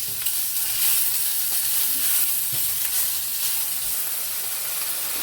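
Beef browns in a frying pan for a steak and ale pie, giving a steady, even sizzle and hiss close by, with faint occasional stirring.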